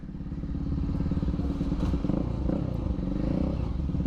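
A Pulsar NS 200 motorcycle with an SC Project exhaust idles close by with a deep, loud, throbbing burble, steady and uneven with slight rattly pulses.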